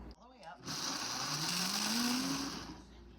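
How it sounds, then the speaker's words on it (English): A blender whirs steadily at high speed, pureeing prickly pear for agua fresca, its motor pitch climbing slowly as it runs loud and close for about two seconds before winding down, with a brief voice at the start. "So I'm gonna go ahead and put this on the blender."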